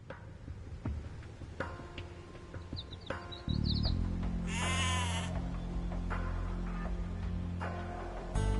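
Sheep bleating in Age of Empires II, game sound effects with clicking ticks, then a sustained low tone from about midway as a bright bleat rises clearly over the busy mix.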